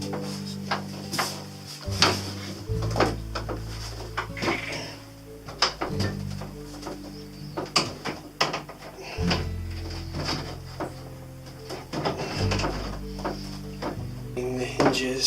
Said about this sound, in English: Rehang the door.